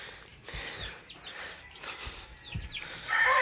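Caged chickens clucking and calling faintly in the background on a backyard farm, a few short scattered calls over steady low ambient noise.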